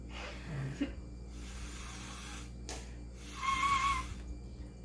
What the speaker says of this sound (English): Listen to me wheeze.